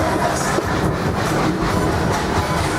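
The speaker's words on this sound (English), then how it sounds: "you can see our really slow green engine number 19 making its way over here" A slow green train engine, number 19, rolls along an amusement park railroad, giving a steady rumbling clatter of wheels on track, close and fairly loud, with no speech.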